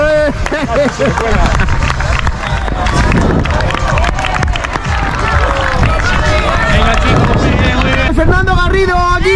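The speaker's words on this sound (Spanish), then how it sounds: "¡Fuerte el aplauso!" Spectators at a charity fun run clap and cheer runners along the course, steady crowd noise and applause mixed with loud shouting voices and commentary throughout.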